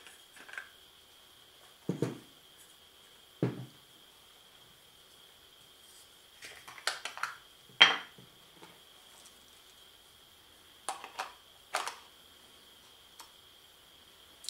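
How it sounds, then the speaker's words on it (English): A FotodioX lens adapter being fitted to a Panasonic GH4 camera makes sparse, quiet clicks, taps and short scrapes over a faint steady whine, with long silent gaps between handling sounds. "let's first attach the adapter to the GH4"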